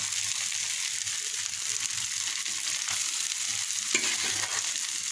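Boiled taro is stirred into fried prawns in a hot pan, producing a continuous loud frying hiss with soft scraping and mashing from the spatula throughout.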